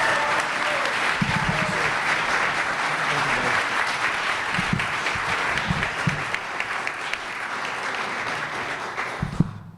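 An audience gives sustained applause for Governor John Carney at a public event, a thick wash of clapping, with a few louder thumps and voices mixed into the crowd noise.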